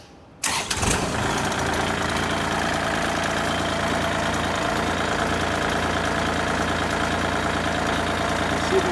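A Kubota L2501 diesel tractor engine cranks briefly, catches and fires up, then settles into a steady, loud, close idle with a faint knocking rumble.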